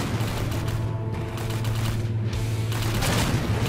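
Enemy artillery shelling in the Vietnamese war video game 7554, a dense continuous barrage of booms and gunfire with a low sustained rumble, loud and close, no speech.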